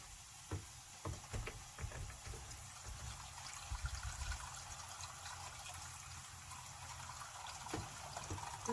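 Water pours slowly from a jug into a vessel for tea, a faint, close trickle with soft irregular splashes and dribbles over a quiet background.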